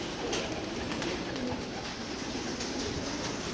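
Pigeons coo softly and repeatedly at close range over steady background noise, with no voices present.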